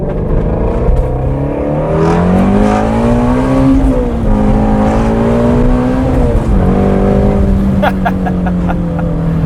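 A Shelby GT350R engine revs out to 8,000 RPM during a hard pull, a loud, steady, high-pitched roar that climbs and holds through the run.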